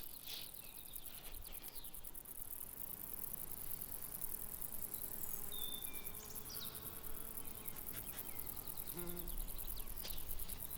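A rattled grasshopper chirps faintly in an outdoor Bavarian alpine setting, with soft, scattered insect buzzing over steady low ambient noise and no voices.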